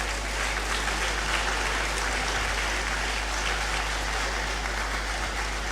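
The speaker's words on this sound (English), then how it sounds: "A round of applause for yourselves" Fresh graduates clapping for themselves at a university congregation ceremony, a steady wash of crowd applause that holds evenly throughout, moderately loud with a constant low hum beneath.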